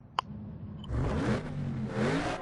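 A car engine in the racing game Need for Speed Underground 2, a short click followed by a loud mid-pitched revving drone that rises and falls in two surges while the car drives.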